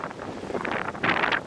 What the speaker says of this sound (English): the reason it's so windy at the moment